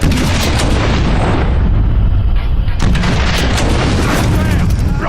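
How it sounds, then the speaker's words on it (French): Loud, dense gunfire and booming explosions from the video game Watch Dogs crackle continuously, with rapid overlapping bursts and a brief lull partway through. "Attention, des coups de feu!"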